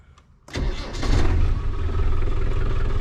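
A Land Rover Defender 90 Tdi diesel engine cranks briefly and catches, then settles into a loud, steady close-up idle with a deep rumble after the start.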